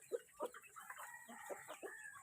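Several chickens clucking close by in a coop, a run of short, uneven clucks and murmurs, quiet and without talk.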